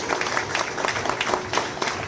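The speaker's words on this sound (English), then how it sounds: "let us all give her a round of applause" Steady applause from a room full of people at a public consultation meeting in Trinidad, a continuous patter of many hands clapping at moderate volume.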